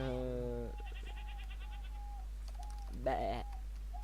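A goat bleats loudly at the start with a wavering, harmonic call, then gives a second shorter bleat near the end over a low steady hum, with soft faint calls in between.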